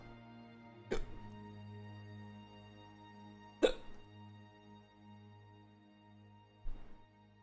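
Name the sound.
hiccups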